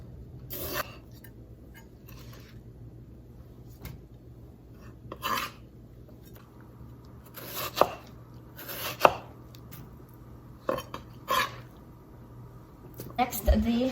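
A knife chops tomatoes on a board for a salad at an outdoor barbecue, a handful of separate sharp cuts spaced apart over a low steady hum, with a person talking between them.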